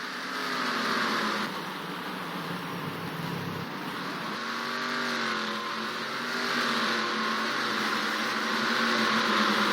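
Race car engines from the rFactor NASCAR racing game at Sonoma, a dense, steady, layered drone of several engines whining together, loud and continuous with slight rises in pitch, with no talking.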